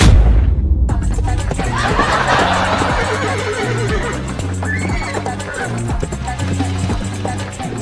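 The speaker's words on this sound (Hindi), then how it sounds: "खुद घोड़े पर चल रहा है और हम गधे पर।" Horse neighing loudly in a comedy skit, a long whinny with snickering and laughing sounds over a rhythmic low beat, fairly close.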